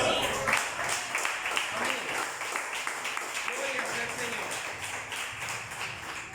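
Church congregation applauding during a sermon, a dense steady patter of many hands clapping at moderate level, with a voice speaking over it throughout.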